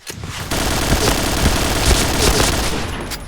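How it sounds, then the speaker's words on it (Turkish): Loud, dense gunfire rattles almost without pause in the shooter game Point Blank, a sustained close fusillade with heavier thuds that may include a grenade blast. "Bir tane şöyle bomba atalım"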